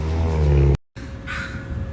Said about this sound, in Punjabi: ਪਤਾ ਨਹੀਂ ਕਿਹੜੇ ਪੰਛੀ ਨੇ ਇਹ ਬੰਗਲੇ ਨੇ ਕਬੂਤਰ ਨੇ ਆਕਾਂ ਤਾਂ ਇੰਨੇ ਕਾਲੇ ਨੇ